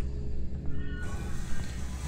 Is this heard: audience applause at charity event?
no